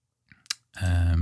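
Two quiet left clicks of a computer mouse close to the mic, followed by a sustained hum.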